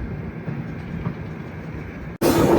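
A long passenger train on the Goa to Secunderabad route rolls along with a steady low rumble and wheel noise, heard from aboard, ending in an abrupt louder burst.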